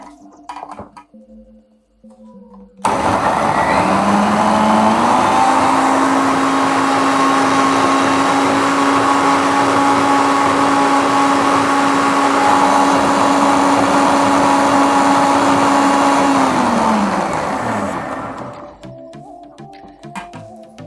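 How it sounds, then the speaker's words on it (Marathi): A kitchen mixer grinder blends a fasting milkshake: a sudden loud motor whir holds steady for about fifteen seconds, close and alone, then winds down and stops. "सर्व साहित्य एकत्र केल्यानंतर आपण ह्याला मिक्सरवरती फिरवून घेणार आहोत"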